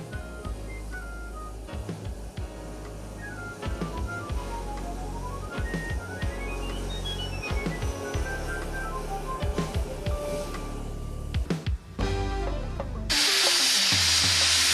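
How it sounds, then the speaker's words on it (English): A steam locomotive pulls away from Butterley station amid rumbling and rhythmic chuffing, a whistle rising and falling, ending in a loud, sustained hiss of released steam. "In a cloud of steam and smoke, the train leaves the Butterley station."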